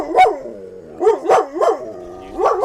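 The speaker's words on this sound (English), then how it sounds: "I'm going to take this dog outside so he'll stop screaming at us." A dog barks loudly and close in a room, a run of sharp, howling barks in quick pairs with brief pauses between them.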